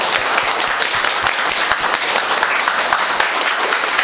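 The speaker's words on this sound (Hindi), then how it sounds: "एक बार जोरदार ताली बजाओ भाई क्लास के।" A class of students gives loud, dense applause, many hands clapping together in a continuous close burst with a faint voice or two underneath.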